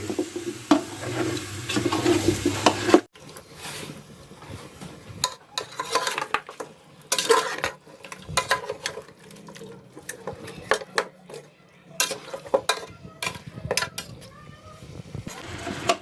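Beef trotters are stirred in masala inside a cooking pot, giving intermittent scraping and clinking of a spoon against metal with soft sizzling, after a brief stretch of louder low rumble at the start.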